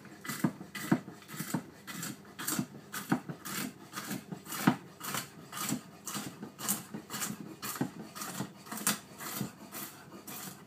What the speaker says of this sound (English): chop in some nice whole almonds